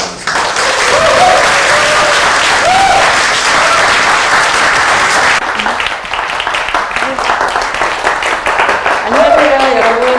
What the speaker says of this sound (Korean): 우리 김수진 처장님을 큰 박수로 맞이하겠습니다.